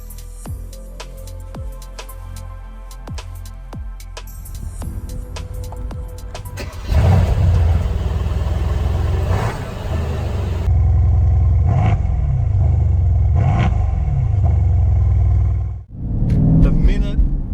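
A 2019 Mercedes-AMG C63 S engine cranks and starts, then roars as it revs and pulls away, the loud rumble shifting with acceleration before briefly dropping off.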